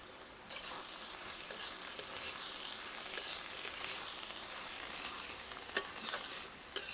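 A vegetable curry sautés with salt in a pan: a soft, fairly faint sizzle with a few scraping stirs and sharp clicks of the utensil against the pan, no talking.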